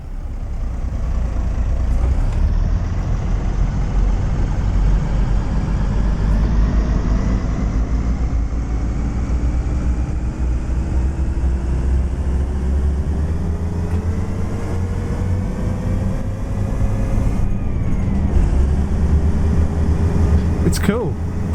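A train in the Train Sim World 4 video game pulls away and gains speed, its deep rumbling engine drone rising slowly in pitch, steady and loud, with someone speaking over it and a brief hiss near the end.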